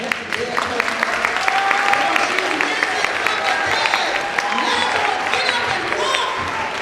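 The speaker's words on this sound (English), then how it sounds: "Let's give them a hand clap" Dense audience applause and hand clapping from a congregation-style crowd fills the whole stretch, steady and loud, with a few cheers and voices mixed in.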